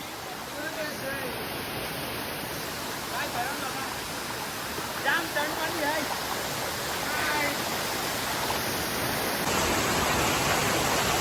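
Water rushes over a village dam in a constant, broad roar like a waterfall. Faint voices can be heard under the noise.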